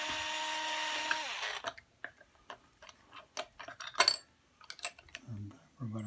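A power screwdriver undoes screws on a Squier Stratocaster guitar, with a brief whirring run at the start, then scattered clicks, taps and short buzzes of the driver and loose screws, close and moderately loud.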